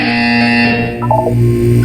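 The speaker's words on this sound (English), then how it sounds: "You will hear a buzzer. When you hear the buzzer, look up at the ceiling." A loud electronic buzzer tone from the video game Portal 2 sounds continuously, with a brief dip and warble midway before it resumes at full strength.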